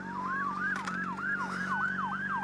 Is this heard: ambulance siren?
yes